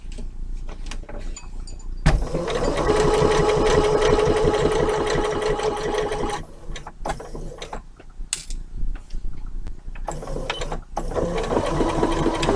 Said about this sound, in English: A couple of stitches backwards and forwards and we're just done.